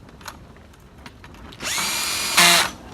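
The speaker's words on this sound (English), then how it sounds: "I just used my drill and a" A cordless power drill fitted with a small socket whirs up and runs steadily as it tightens bolts, then revs harder in a brief louder burst before stopping, close by with no talking.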